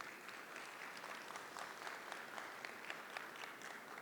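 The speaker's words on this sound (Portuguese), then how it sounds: "Uma salva de palmas, por favor." Sustained audience applause at an ISP networking trade fair talk, a thick wash of many hands clapping at a steady, fairly faint level from start to end with no voices over it.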